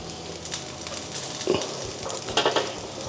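American bacon frying in a pan, a continuous crackling sizzle with a few louder scraping stirs of a utensil against the pan, close and alone without talk.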